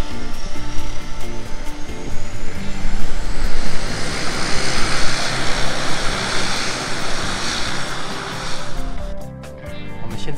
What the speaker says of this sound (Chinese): 飞机要起飞了，2台飞机都要起飞了。